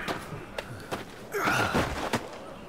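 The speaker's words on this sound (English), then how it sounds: "Why are you breathing like that?" Heavy, labored breathing from a character in the video game Final Fantasy 16, a series of close sighing exhales and gasps with a stronger rush of breath midway, alone without speech.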